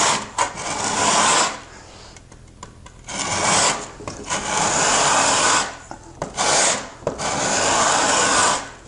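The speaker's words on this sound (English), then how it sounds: "I'm standing the saw almost on edge as if I'm cutting rather than dragging the teeth like this." Handsaw teeth dragged across a wood surface to create a rough-sawn texture, heard as loud, close rasping strokes in several long bursts separated by short pauses.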